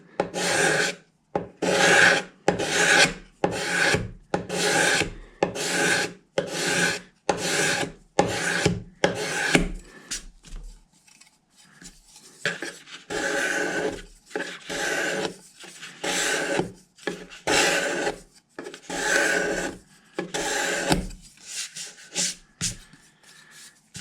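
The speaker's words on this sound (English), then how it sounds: "And I think I'm going to use this scraper" A cabinet scraper is worked over the wood of an acoustic guitar. It makes a close, rhythmic series of rasping strokes, regular at first and then looser and quicker.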